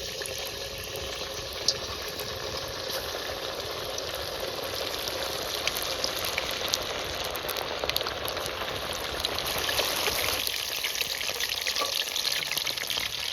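Chicken frying in hot cooking oil, with a dense continuous sizzle and bubbling that holds steady for several seconds and grows slightly fuller near the end, close and without talk.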